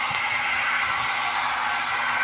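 A pet blower dries a chow chow puppy's fur, a steady loud hiss of rushing air that continues unbroken and close.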